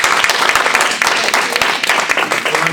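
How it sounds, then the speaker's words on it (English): An audience at a panel discussion claps loudly and continuously for the panelists, a dense, even applause close by with brief murmurs underneath. "So please, a round of applause to all 3 of our panelists."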